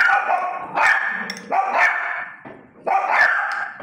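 A dog barks in three loud, close, hoarse bursts with short gaps between them, reacting to firecrackers going off nearby.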